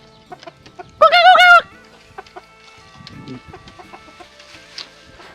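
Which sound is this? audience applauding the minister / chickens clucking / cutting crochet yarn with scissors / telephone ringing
chickens clucking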